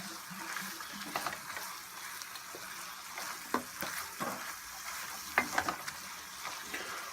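Cabbage and sausages sizzle quietly in an uncovered pan, with a soft steady crackle and a few sharper clicks and scrapes of stirring scattered throughout.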